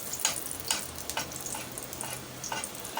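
Paratha shallow frying in oil in a pan, a steady soft sizzle broken by repeated sharp crackles and scraping stirs at irregular intervals, close and fairly quiet.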